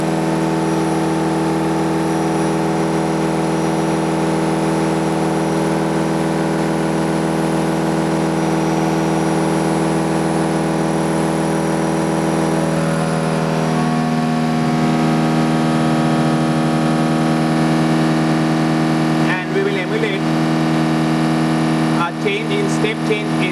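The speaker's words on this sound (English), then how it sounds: "Next, we will run the motor at 1800 RPM." A switched doubly-fed electric motor and generator test rig runs at 1800 RPM in a laboratory. It gives a loud, steady mechanical hum with strong tonal whine that shifts slightly partway through, with brief disturbances near the end.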